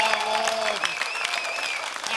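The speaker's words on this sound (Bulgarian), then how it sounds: "Моля за вашите аплодисменти за него!" Studio audience of a Bulgarian TV talk show applauds a drummer, the clapping dense and continuous. A sustained musical tone fades out early, leaving bright, even applause.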